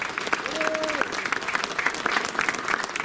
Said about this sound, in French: Donc je pense qu'on peut aussi l'applaudir, notre maire